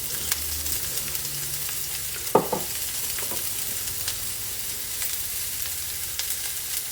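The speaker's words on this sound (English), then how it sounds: "Then we're going to add the aromatics. The whites of the green onions, the chopped ginger," Green onion whites and chopped ginger fry in a hot wok for a Sichuan pepper dish, a loud continuous sizzle with a single knock or clatter partway through.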